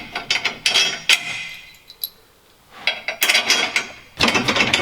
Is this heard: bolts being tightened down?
yes